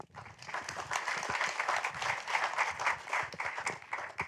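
A town hall audience claps together for panelists in sustained, dense applause, many hands at once, steady and fairly loud throughout.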